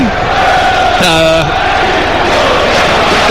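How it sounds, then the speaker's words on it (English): A dense football crowd roars steadily at Leicester City against Newcastle United, a constant loud wash of massed voices swelling as they urge the ball toward the net, with a brief whistle-like tonal burst rising above it early on. "And listen to that roar. Crowd trying to will the ball into the back of net"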